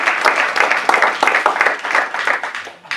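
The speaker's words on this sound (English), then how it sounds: "I think we need another round of applause." Guests at a wedding anniversary celebration give a lively round of applause, a dense patter of many clapping hands, fairly close and loud for three seconds.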